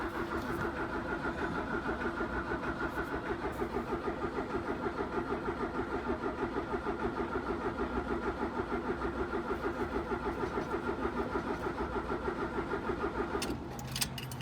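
A 1980 Fiat 124 engine cranks without catching, the starter churning in a fast, even pulse for about thirteen seconds before cutting off abruptly, heard close and alone.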